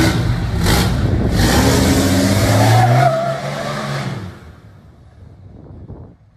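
A small mini truck is driven past, its engine loud and close with a steady droning roar that builds, then fades away into the distance over several seconds.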